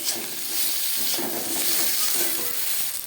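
Chopped tomatoes hit hot oil with fried onion, ginger and garlic paste, giving a steady loud sizzle with light stirring scrapes throughout.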